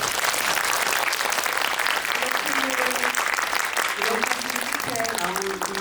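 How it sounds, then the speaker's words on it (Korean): Warm audience applause at a Korean film screening and talk session for the movie Harbin, steady dense clapping throughout, with cheering voices and a few cries rising over it toward the end. "박수 한번 보내주세요"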